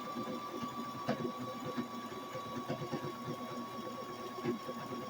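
A sewing machine stitches hemp cloth diaper covers in a soft, continuous run with faint rhythmic ticks and mechanical clatter throughout.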